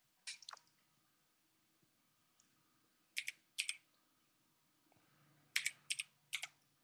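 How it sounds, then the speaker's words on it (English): Someone types on a computer keyboard in a quiet room, tapping out short bursts of two or three crisp key clicks separated by pauses, close and fairly soft. "So let's type those in here."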